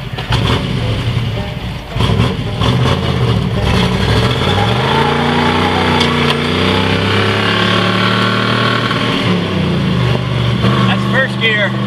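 A 1955 Ford wagon's engine pulls in first gear, a loud, close drone that revs up and sweeps in pitch as the car accelerates along a road, with a voice talking over it.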